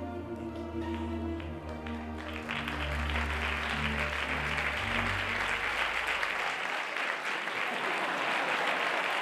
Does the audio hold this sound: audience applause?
yes